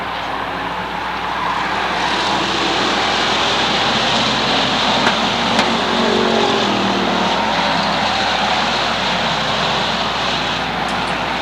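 Pure stock race cars run three wide through the turns at Waterford Speedbowl, a dense continuous engine roar heard from a distance, steady and loud with slight swells as the pack passes.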